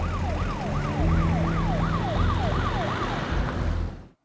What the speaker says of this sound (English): Ambulance is bringing the witness.